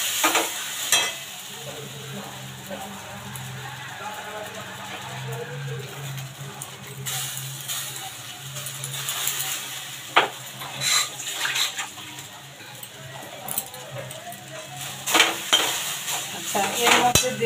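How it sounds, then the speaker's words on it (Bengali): Green peas stirred and frying in a pan with green pea paste, a soft continuous sizzle under scraping and clinking spoon strokes, with a few sharper knocks toward the end. "কড়াইশুঁটি দিয়ে দিলাম এর মধ্যে,"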